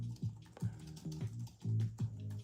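A chat message is typed on a computer keyboard in soft, irregular clusters of keystrokes, close and quiet, with a low steady hum underneath.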